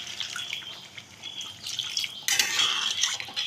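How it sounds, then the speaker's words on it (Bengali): Water is poured into a pan of spiced, pre-boiled potatoes for Bengali niramish aloo dum, heard as a close, steady splashing trickle that turns louder and fuller midway, with faint clatter around it. "সামান্য একটু জল দিয়ে দিলাম।"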